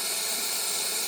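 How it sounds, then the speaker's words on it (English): Steady, bright hiss from the hot water tap of a Livia 90 espresso machine after a full service, running continuously for about a second at moderate level with no one talking. "hot water tap, always want to test that too."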